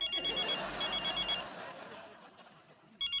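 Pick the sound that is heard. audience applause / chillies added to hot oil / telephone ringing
telephone ringing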